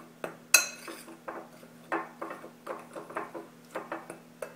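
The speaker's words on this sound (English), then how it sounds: "But first we'll give our dry ingredients a little bit of a stir too." Dry waffle ingredients stirred in a bowl, a quiet series of scraping clinks from a utensil against the bowl, repeated in an uneven rhythm, close and soft with no talk.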